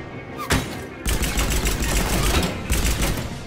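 Rapid assault rifle bursts in the video game Mass Effect 3, a single sharp shot followed by dense, loud sustained fire that briefly pauses before resuming, close and dominating the mix.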